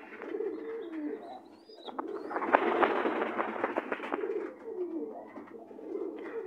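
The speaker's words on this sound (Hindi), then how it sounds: "मेरे हाई फ्लायर के जोड़े के बच्चे" Grown chicks of a high flyer pigeon pair coo nearby in soft, repeated throaty bursts, joined midway by a louder rustling flurry, with no talking.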